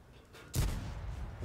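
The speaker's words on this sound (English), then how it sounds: "It was a Scorpion G shot." A Scorpion G tank destroyer's main gun fires once in World of Tanks, a sudden loud boom with a rumbling tail fading slowly afterward, with no voices over it.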